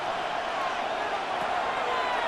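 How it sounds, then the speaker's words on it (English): Stadium crowd roaring steadily at a third-down play in a Madden NFL 26 simulation of Giants versus Jets, a continuous broad wash of cheering with no break. "This crowd into it now as we get to 3rd down."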